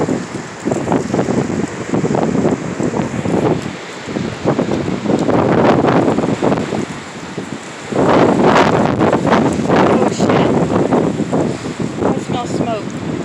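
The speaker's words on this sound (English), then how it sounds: "Oh, here comes a big gust." Strong gusts of wind in a windstorm roar and buffet the microphone for the whole stretch, swelling louder in waves with heavy rushing and rustling throughout.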